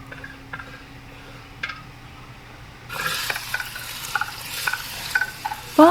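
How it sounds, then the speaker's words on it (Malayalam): Onions drop into melted coconut oil in an uruli for a Kerala chicken curry: a quiet start, then a sudden close sizzle with light stirring clinks and scrapes. "അപ്പോൾ സവാള ഇട്ടിട്ടുണ്ട്."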